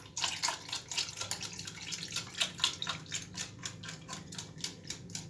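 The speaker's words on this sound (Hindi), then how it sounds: "इसके साथ हम 1 कप जो दूध है वो इसमें ऐड कर देंगे" A cup of milk is poured into an egg and semolina halwa in a pan, making close, rapid splashing and bubbling bursts in an uneven rhythm that carries on throughout.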